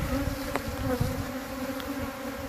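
Honey bees from a hive lodged inside an airport suitcase buzz loudly and continuously, a dense close swarm hum with a few sharper passes of individual bees near the listener.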